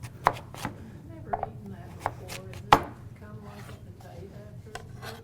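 A knife chops through hard root vegetables on a board, with several separate, irregular sharp thuds and cuts close by over a quiet background.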